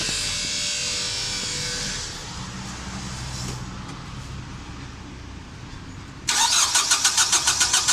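A Nissan Navara with a misfire fault code P0304 runs close by as a steady, slightly uneven engine drone, then a sharper pulsing, rhythmic engine note takes over near the end.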